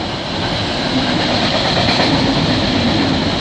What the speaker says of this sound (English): I think it's the Ford train with the containers on it.